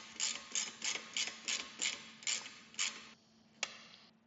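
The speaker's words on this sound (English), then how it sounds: "Tightening just a little bit to make sure it's gonna stay there." Ratchet wrench tightening a bolt on CF Moto 800 MT-X motorcycle crash bars: about nine quick, close clicking pulls in a steady rhythm, then a pause and a single sharp click, with no talk.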